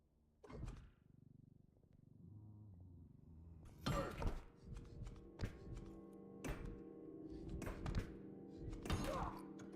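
Heavy sledgehammer blows in the video game REPO, several dull thudding impacts at irregular intervals over a low background hum, moderately loud.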